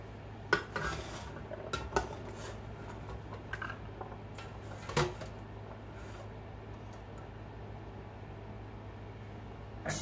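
A cooking pot pulled out and handled in a home kitchen: scattered metallic clanks and taps, a few louder knocks among softer rattles, over a faint steady background hum.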